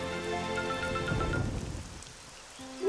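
Rain falls outdoors in a children's dinosaur cartoon, a soft steady patter that thins out and fades as the shower ends, with no talking.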